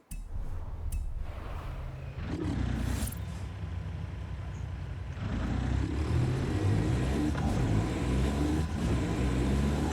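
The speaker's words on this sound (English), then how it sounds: "It's supposed to be a 13-liter racing engine." A racing car engine in Forza Horizon 5, a 13-liter, 2,400-horsepower engine, drones and revs continuously, its pitch shifting as it accelerates, loud and close throughout.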